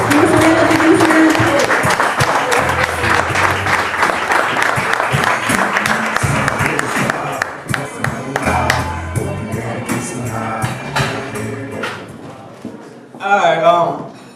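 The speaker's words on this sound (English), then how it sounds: "Round of applause." Applause from an audience at a poetry cafe fills the first half as dense, loud clapping, then thins and fades while voices and cheers carry on, ending with a short burst of talk.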